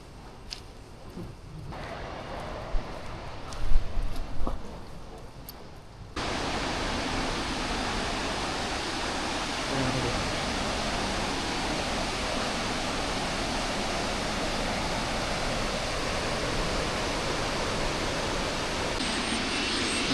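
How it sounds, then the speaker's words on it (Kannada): Mallalli Falls in Coorg during the monsoon, a steady broadband roar of falling water that swells in loudly after a few seconds of quieter, gusty outdoor noise and then holds unbroken. "ಇದೇ ನೋಡಿ ಫಾಲ್ಸು, ಅಲ್ಲಿ ಬೀಳ್ತಾ ಇದೆಯಲ್ಲ, ಮಳ್ಳಳ್ಳಿ ವಾಟರ್ ಫಾಲ್ಸ್"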